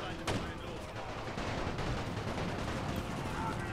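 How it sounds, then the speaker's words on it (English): Artillery fire in the World War I strategy game NTW: The Great War: a dense, continuous barrage of booming shots and crackling gunfire, with one sharp report near the start and a steady loud rumble throughout. "See, because I'm using my artillery to counter their artillery."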